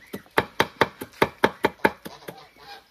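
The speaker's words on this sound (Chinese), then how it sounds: "现在给我先把这个香菜剁碎了啊" Fresh coriander being chopped with a knife on a board, about a dozen crisp close chops in a steady quick rhythm that gradually soften toward the end, with no voices.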